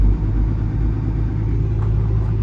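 A JCB machine's engine running at raised rpm, a loud, steady low rumbling drone heard up close and holding evenly throughout, with no talking.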